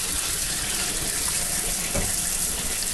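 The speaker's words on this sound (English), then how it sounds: "water coming out of the tap." Cool water runs steadily from a kitchen tap over frozen mixed berries, a continuous broadband hiss and splatter holding even and close throughout.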